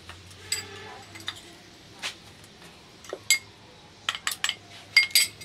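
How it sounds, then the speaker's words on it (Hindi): An orange drink mixture with black salt just added gets stirred in a pot on a low flame, giving sparse metallic clinks and taps of a spoon against the vessel with quiet pauses between them. "अच्छे तरीके से इसको चलाएंगे"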